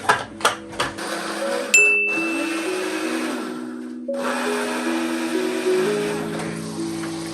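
A kitchen blender grinds browned onions with yogurt into a paste. A loud, steady whirring motor runs almost throughout, rising and dipping briefly, and a few light clinks and a bright ding come near the start.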